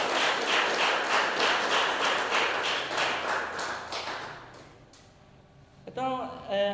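A church congregation claps in worship of God, with many hands in steady rhythmic applause that fades after about four seconds, followed by a short burst of voices near the end.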